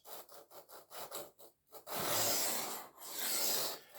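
An Aurillac knife blade is drawn across a sharpening stone in a run of short, rhythmic rasping strokes, followed by two longer, louder sweeping passes, close up and alone.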